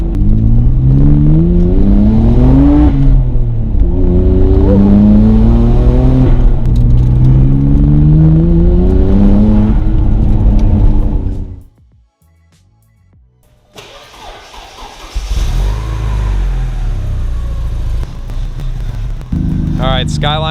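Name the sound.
Porsche turbo engine revving with blow-off valve sounds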